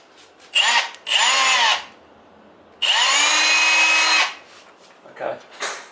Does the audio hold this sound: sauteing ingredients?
no